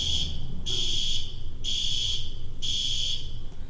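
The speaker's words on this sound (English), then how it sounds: "Fire alarm time." A loud, high-pitched fire alarm blares in repeated bursts of about half a second, separated by short pauses, over a steady low background rumble.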